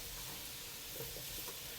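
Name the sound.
potatoes frying in a pan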